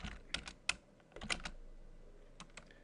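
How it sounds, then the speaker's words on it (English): Someone types a command on a computer keyboard, a quiet scatter of close, sharp keystrokes in short bursts with a pause between them. "We'll type the same command."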